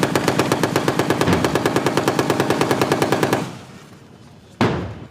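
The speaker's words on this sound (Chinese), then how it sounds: "M60 A3战车远途射击，202机炮火力压制" An M60A3 tank and a 202 autocannon fire during a military exercise against a beach landing, a loud, rapid and steady train of shots for over three seconds, then a fading rumble and one more sharp blast.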